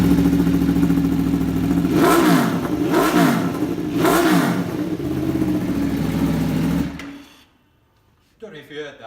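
A 2016 Aprilia Tuono V4 1100 Factory motorcycle idles loud and close, then three sharp throttle blips rise and fall at a steady rhythm before the engine cuts off into near silence.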